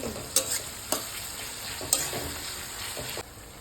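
Onions shallow-fry in a pan while being stirred, with a steady sizzle punctuated by several distinct spatula knocks and scrapes against the pan, no voices.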